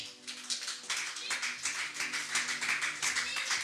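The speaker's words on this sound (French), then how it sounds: "Acclamons la parole du Seigneur" Church congregation applauding, a steady mass of many hands clapping with a loose rhythmic pulse that carries on for several seconds, moderately distant.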